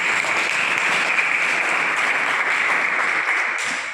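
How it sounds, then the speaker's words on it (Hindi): An audience claps loudly at an indoor motivational event, a dense, steady roar of applause that holds evenly for a few seconds before easing slightly. "जोरदार ताली बजाते हैं"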